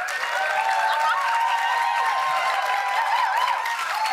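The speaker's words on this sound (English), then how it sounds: "Clap if you want Zainab to win." A studio audience claps to vote for a contestant named Zainab in a food competition show, a loud, steady wash of applause with some cheering and a few sustained vocal tones riding over the clapping.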